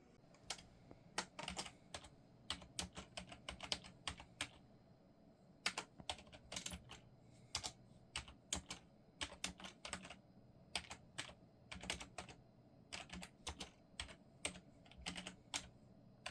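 Steady bursts of typing on a computer keyboard, close and clear, with quick clustered keystrokes separated by brief pauses while writing prose, no voices.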